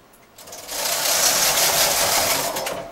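A manual knitting machine knitting double jacquard, its carriage sweeping across the needle bed in a single smooth whooshing pass lasting a couple of seconds, close and fairly loud.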